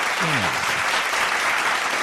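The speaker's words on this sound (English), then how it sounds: "I'm gonna put a clap in there anyway." Applause sound effect dropped into a podcast, a short burst of dense clapping that runs steadily for about two seconds with a brief voice trace at the start.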